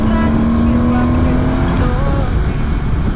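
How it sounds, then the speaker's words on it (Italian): A car engine revs loudly and close, with a steady droning tone and shifting pitch that fill the whole moment. "Che motore ragazzi,"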